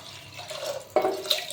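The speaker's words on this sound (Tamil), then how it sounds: "தண்ணி ஃபஸ்ட்டு ஊற்றிடுங்க, அப்புறம் ரைஸ் எடுத்து அப்படியே கையில் இது பண்ணி போட்டுருங்க" Water and rice poured into a pressure cooker in a home kitchen: a soft trickle and dripping, then a sudden splashy pour partway through, close and moderately quiet.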